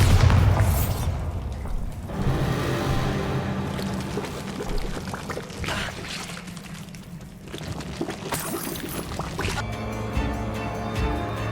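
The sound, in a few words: Incendio and Bombarda spell explosions in Hogwarts Legacy video game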